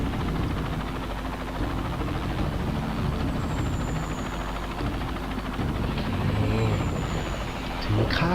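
Rescue helicopter in the video game Dustoff Heli Rescue, a steady engine and rotor drone held at a constant level throughout, with game effects layered over it.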